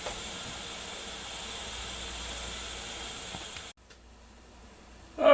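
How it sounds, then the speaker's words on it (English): Steam hisses steadily from a pressure cooker building pressure while cooking St. Louis ribs, a broad continuous hiss that cuts off abruptly, followed by near silence and a brief louder clatter at the end. "that button just started hopping around a little bit, and a little bit of steam's coming out"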